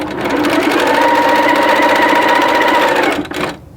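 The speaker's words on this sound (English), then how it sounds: "Now I'm going to sew these two strips together, and I'm going to use a 1/4 inch seam." A sewing machine stitching jelly roll fabric strips together with a quarter-inch seam, one loud continuous rapid run up close that stops abruptly near the end.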